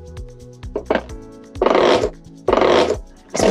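A larger güiro gives a deeper, bass-toned scrape: a few short ticks, then three long rasping strokes close up, each swelling and cutting off abruptly.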